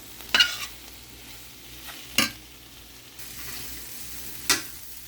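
Taco vegetable filling of peppers and onion with seasoning sizzles quietly in a pan, punctuated by three distinct scraping stirs of a utensil spaced a couple of seconds apart.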